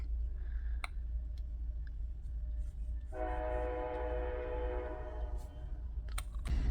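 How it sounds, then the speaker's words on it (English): A train passes in the background with a sustained horn blast over a steady low rumble, the horn coming in a few seconds in and holding to the end, with a few faint clicks and no talking. "there's a train coming"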